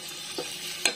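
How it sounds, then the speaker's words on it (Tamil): Eggs sizzle in a pan of masala while being stirred in for egg pulao, a quiet frying hiss broken by two brief scraping stirs. "இப்ப இந்த முட்டையை அதுல சேர்த்துக்கலாம்."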